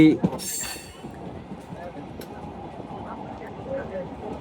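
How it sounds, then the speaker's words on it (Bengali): The Rupsi Bangla Express runs toward Dhaka on the Padma Bridge rail line, a steady rumble of wheels on track heard from on board. A sharp burst opens the clip, and a voice talks over it. "রূপসী বাংলা এক্সপ্রেস ট্রেনটি এখন রূপদিয়া রেলওয়ে স্টেশন অতিক্রম করে যাবে"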